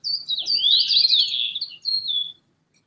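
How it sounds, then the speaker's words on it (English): A single bird in a video game engine demo chirps in a bright, trilling call lasting about two seconds, close and clear with nothing else audible. "That's one of the birds that is moving around."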